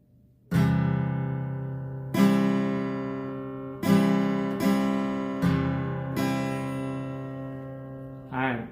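Acoustic guitar playing a bass-and-treble strumming pattern, a bass note then treble strums, with six evenly spaced strong attacks that ring out and decay, heard close and alone.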